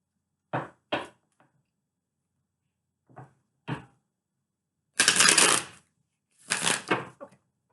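Tarot cards being shuffled in several separate bursts: two quick riffles, a pair of soft flicks, then two longer, louder bridge-style cascades.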